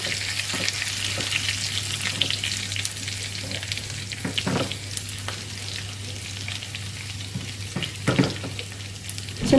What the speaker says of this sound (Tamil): இந்த வெள்ளைப்பூண்டு போட்டுக்கிறேன், இடித்து வச்சதை.